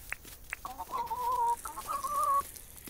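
Chickens in the video game Dinkum cluck and warble close up in a few short bursts, with a couple of sharp tones at the start.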